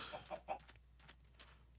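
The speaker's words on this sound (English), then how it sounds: "I'm going to need to put a better place for these chickens." Chickens in the Minecraft video game give a few short, faint clucks spaced apart near the start, followed by quieter game sounds.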